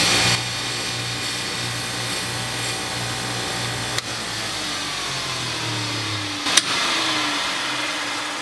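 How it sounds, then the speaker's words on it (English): A single-speed 3450 rpm bench buffer fitted with buffing wheels spins up in a woodturning shop. It gives a steady, close motor hum and whine with tones that slowly rise, plus a couple of sharp clicks. "So I put a couple buffing wheels on there, but it sounds like a jet engine, you know, ramping up."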